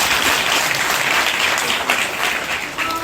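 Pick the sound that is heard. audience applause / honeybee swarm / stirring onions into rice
audience applause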